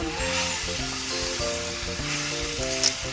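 Pickled bamboo shoots stir-fried with minced pork and curry paste give off a steady close sizzle, with background music playing over the whole stretch.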